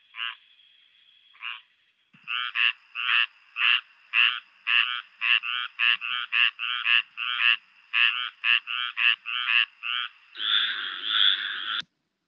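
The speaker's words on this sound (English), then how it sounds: "Squirrel tree frog." A squirrel tree frog calls in a rapid series of short, nasal, raspy notes, about two per second. The calls are loud and close against a silent background and end in a longer buzzy burst.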